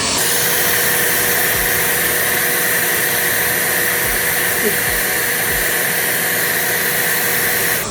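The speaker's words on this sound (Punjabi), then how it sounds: "ਨੋਰਮਲ ਹਲਕਾ ਹਲਕਾ ਆਪਾਂ ਨੇ ਡਰਾਇਰ ਕਰਨਾ ਵਾਲਾ ਨੂੰ ਸ਼ੇਪ ਦੇਣੀ ਹੈ" A hair dryer on a gentle setting blows over a beard to shape it, giving a loud, steady, continuous whooshing roar close to the mic for the full eight seconds.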